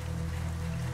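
Heavy rain pouring steadily in a TV drama scene, a dense continuous wash of noise with a low rumbling undertone, unbroken throughout and with no speech.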